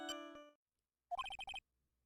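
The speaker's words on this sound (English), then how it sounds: "He's got his own theme as a ringtone." A phone ringtone plays a character's theme in the Ace Attorney: Trials and Tribulations game, a short bright electronic melody of quick notes after a sustained tone and a pause.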